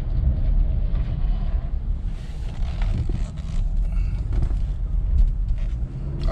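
A Nissan Rogue with 91,000 miles on the test drive, heard from inside the cabin as a steady low road and engine rumble with wind noise, continuous and fairly loud, with no talking.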